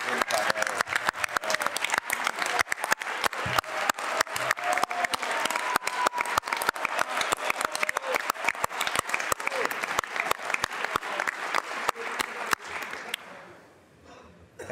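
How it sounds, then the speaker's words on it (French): Sustained audience applause at a lighthearted holiday-greetings address in a Quebec assembly, dense steady clapping from many hands for about thirteen seconds before dropping off abruptly into quiet. "On va applaudir pareil."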